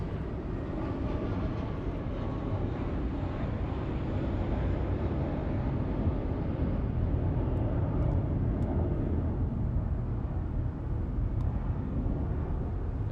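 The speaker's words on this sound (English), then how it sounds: "over here it looks like United and Southwest are finally moving after a little bit of a wait" United and Southwest airliners taxi at Los Angeles International Airport, a steady low engine rumble and roar that holds for the whole stretch, with no voices over it.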